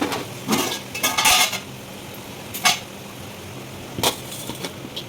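Fried rice ingredients are mixed through hot cooked rice with a spoon in a pan, heard as scattered loud metallic clanks and scrapes separated by quieter stretches of low hiss, with no speech.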